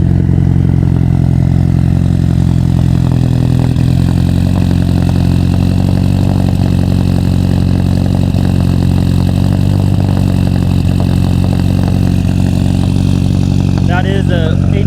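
A car fitted with a rotated ETS turbo kit and intercooler and an HKS RS Race exhaust idles loudly and steadily with a deep, droning burble, someone talking over it.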